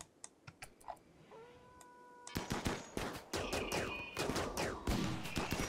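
Gunfire in the colony game RimWorld starts as scattered single shots, then breaks into dense, rapid volleys of overlapping bursts that stay loud and continuous.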